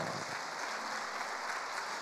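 A congregation claps together during an early-morning church worship service at a prayer retreat, producing a steady, dense wash of applause that holds at an even level for about two seconds with no voices on top.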